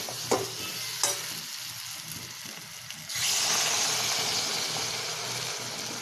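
Spice mixture for a taro (arbi) curry, sweetened with sugar, gets a few scraping stirs before water is poured in, setting off a loud, sustained hissing sizzle that fills the rest of the moment.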